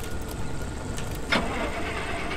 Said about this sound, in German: Starte den Motor.